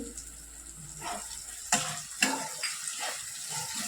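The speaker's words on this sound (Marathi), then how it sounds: "कांदा टोमॅटो आपले छान परतून झाले" Onion and tomato sauté in a pan for misal, a soft sizzle under a few sharp clacks and scrapes of a spoon stirring against the pan, with no voices.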